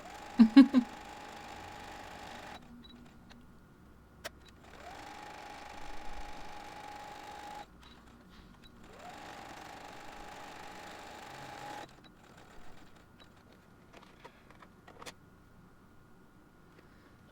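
A sewing machine stitches sari ribbon loops down onto a fabric album, running in two long, even bursts of steady mechanical whirring separated by short pauses, with a few sharp handling clicks at the start and no talk.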